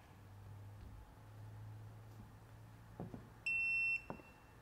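A VCI ITS 600 vehicle diagnostic interface sounds a single loud, steady electronic beep lasting about half a second, preceded by a low hum and a couple of faint clicks.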